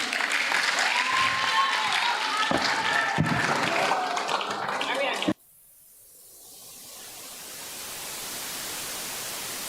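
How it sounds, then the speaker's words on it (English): An audience at a primary school graduation ceremony claps loudly and steadily for about five seconds with voices mixed in. The applause then cuts off abruptly into quiet hiss that slowly grows. "Clap her while she comes, man"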